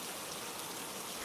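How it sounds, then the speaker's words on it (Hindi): Rain falls steadily in a brief, faint wash of soft hiss and patter, with no voices. "ये बारिश तो आज रुकने वाली ही नहीं है"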